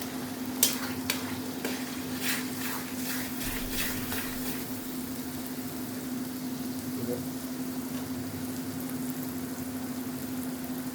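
Goat meat fries with spices in a pan, giving a continuous soft sizzle under steady stirring and scraping, with a faint hum, a few sharp clinks near the start and no talk.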